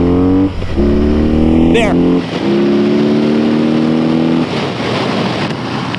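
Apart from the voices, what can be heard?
BMW cruiser motorcycle accelerating 0 to 60 in cold weather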